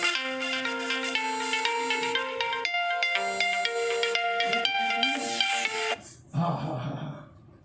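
A melodic phone ringtone plays loudly and steadily for several seconds, its tune cutting off abruptly before a short burst of other noise.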